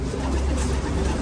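Soft, low cooing of pigeons close by, a murmuring warble over a busy background.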